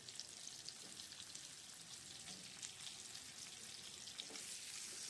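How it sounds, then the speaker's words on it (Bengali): Fork-pricked potatoes for Bengali Kashmiri dum aloo fry in a pan with a close, continuous hissing sizzle and no talk. "খুব ভালো করে ভাজা করে নেব আলুটাকে"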